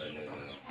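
Chickens and turkeys cluck near a farmyard pig pen at feeding time, a brief, faint, muffled burst of soft bird calls.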